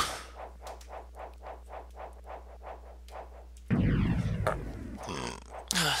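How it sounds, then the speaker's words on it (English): A single loud, rumbling burp lasting about two seconds, breaking in over rhythmic game music and sound effects from Castlevania: Symphony of the Night on the PS1. "I accidentally burped."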